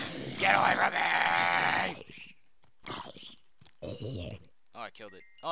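Sheep bleat in a Minecraft world, a loud, wavering cry up close followed by a few shorter, quieter bleats with gaps between them.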